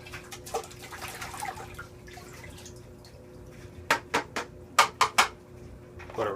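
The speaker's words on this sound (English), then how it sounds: "I'm going to rinse this tray out." A Fluval 406 canister filter tray is rinsed in a bucket of water, with light dripping and sloshing first, then a quick series of sharp splashes and clatters near the end, close by and with no talking.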